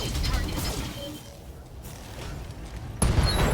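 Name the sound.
weapons fire from a precision shot in the BattleTech video game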